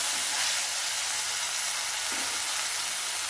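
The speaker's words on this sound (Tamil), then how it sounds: "ஒரு தக்காளியை நல்லா வதங்கட்டும்" Pureed tomato fries with onions in hot oil in a pan, giving a steady, close, continuous sizzling hiss with no speech.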